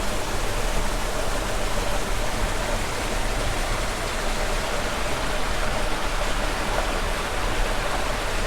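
Water rushing steadily out through a narrow two-foot-wide hole at the exit of a sinkhole pool, a continuous loud broadband roar like a stream or small waterfall, close by and unbroken with no voices.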